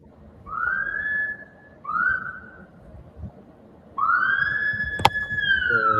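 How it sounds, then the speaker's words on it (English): A person whistles three rising-then-held notes, two short ones followed by a longer sustained tone, clear and close over faint background noise, with a brief sharp click near the end. "Let me whistle at you."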